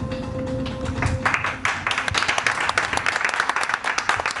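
Newsroom staff applaud a departing TV news anchor on her final day, a steady patter of many hands clapping close by, following a short stretch of murmuring voices and a low tone.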